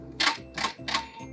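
A sewing machine backstitches at the end of a seam, making three quick mechanical whirring bursts in a row and a fainter fourth, close and clear with no talking.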